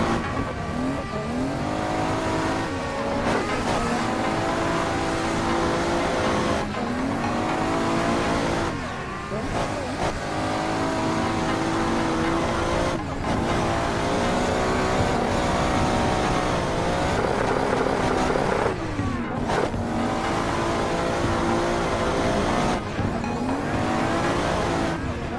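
Toyota JZX100 drift car lapping in Assetto Corsa, the engine revving hard and dropping in repeated cycles with tire squeal through each slide, loud and continuous throughout.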